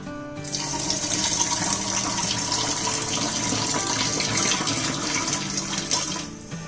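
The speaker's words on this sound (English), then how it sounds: "Now we're going to add a bit of water to this." Water pours steadily into a vessel holding rice for several seconds, a continuous close splashing stream that stops abruptly near the end.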